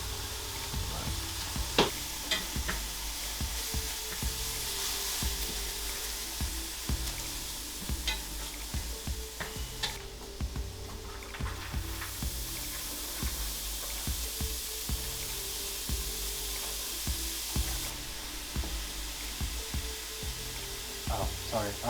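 Pork sizzles and crackles steadily in an oiled pan with ginger and garlic, the low constant hiss punctuated by the scrape and clack of a utensil stirring, fairly close, with no talk.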